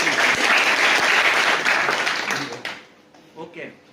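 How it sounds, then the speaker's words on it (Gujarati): An audience at an organic agriculture products seminar gives a steady round of applause, loud and even for a couple of seconds, then tapering off. A few scattered claps and a voice follow. "તાળી થઈ જાય ફરી વાર."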